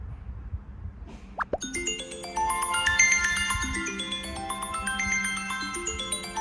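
An iPhone X speaker plays a bright chiming melody after a couple of soft taps and plops, ringing clearly and steadily at moderate volume.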